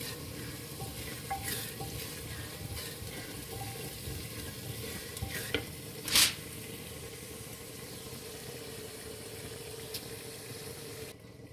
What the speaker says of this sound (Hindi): लहसुन और प्याज बड़ा अच्छा सा सौते हो गया